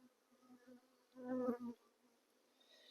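Honeybees buzz at an open beehive frame during a hive inspection, a low hum that swells into a loud, close drone midway and then fades back to a faint background buzz.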